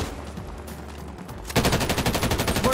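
EM2 rifle fire in Warzone Season 5 breaks out after a short lull into a loud, rapid automatic stream of close shots with a steady, even rhythm that keeps going to the end.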